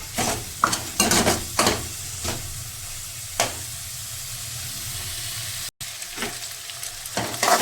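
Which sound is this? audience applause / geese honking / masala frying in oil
masala frying in oil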